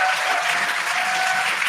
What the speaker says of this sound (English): They just cheered for the parachutes.